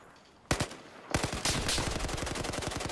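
Automatic weapon fire cracks through a Battlefield 4 multiplayer match: a couple of opening shots, then a sustained, evenly spaced rapid burst, loud and near, with no talk.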